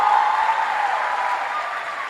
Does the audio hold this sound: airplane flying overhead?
no